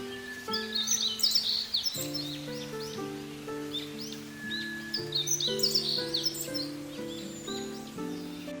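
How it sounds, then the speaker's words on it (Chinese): Small birds living in a grapevine at Mount Gambier chirp and tweet in quick, high bursts over a soft background of sustained music-like tones. "找到了一只可爱的小鸟鸟，这里面有很多小鸟住在这个葡萄藤蔓里面"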